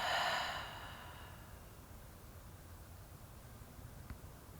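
Deep yoga breath, a long audible exhale that starts fairly strong and fades into a soft, steady room hiss, close and alone without talk.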